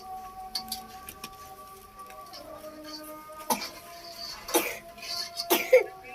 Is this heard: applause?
no